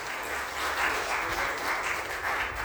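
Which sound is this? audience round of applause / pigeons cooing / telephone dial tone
audience round of applause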